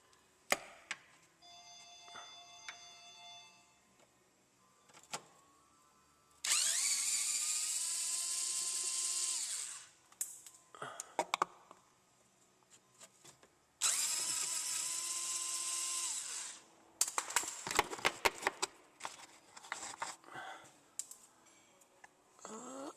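Power tool removing 10mm bolts from the timing cover of a 2007 Hyundai Elantra 2.0L, two loud sustained whirring bursts of about three seconds each, between lighter clicks and clatter of tools and parts, close, no talking.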